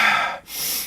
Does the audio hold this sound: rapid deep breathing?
yes